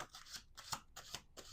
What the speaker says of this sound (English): 1 last shuffle.